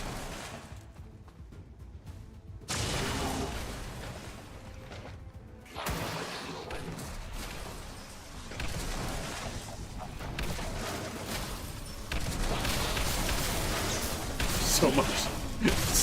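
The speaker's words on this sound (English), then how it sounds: "So much explosions." Dense explosions and blasts from Slay the Spire layered with busy action sounds, growing louder toward the end, with a voice talking over the chaos.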